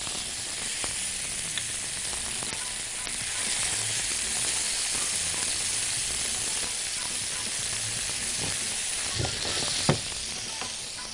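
Tomatoes sizzle in a hot frying pan while being stirred for an eggs-with-tomatoes dish. A steady, dense hiss runs throughout, with occasional scraping clicks and a sharper knock near the end.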